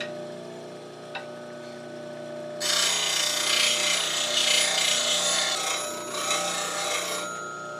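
A bench grinder sharpening the bevel of a woodturning skew chisel: a steady motor hum, then a loud, rough grinding rasp starts partway through and holds for several seconds before easing off near the end.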